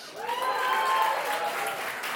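A comedy club audience at a New York one-liner competition applauds and whoops for a comedian, steady clapping with a rising cheer that peaks early and then holds at a moderate level.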